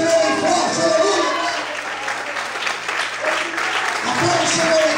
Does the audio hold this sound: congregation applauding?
yes